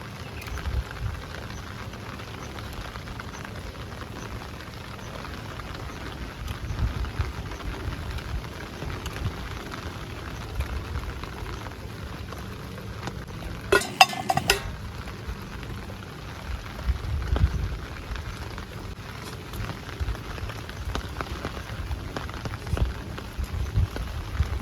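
Steady rain falls outdoors in an okra field, a continuous soft patter of drops on surfaces throughout, with a brief crackling burst midway and no talk.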